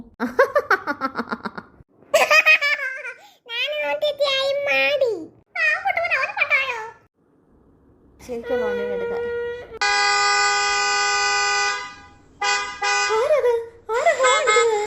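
A vehicle horn sounds one long, steady blast and then a shorter honk, cutting in between lively children's voices and giggling nearby.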